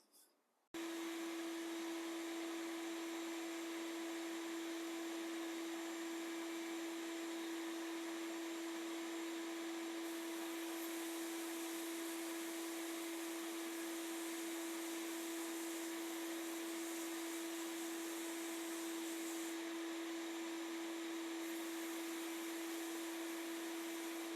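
A bead blaster cleaning small car parts for a Lincoln Speedster gives a steady loud hissing roar with a constant hum beneath it, starting abruptly and running without break, with no voices.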